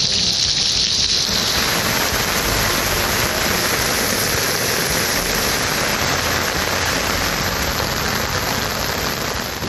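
Heavy monsoon rain pours down in a dense, continuous roar of falling water, loud and unbroken throughout.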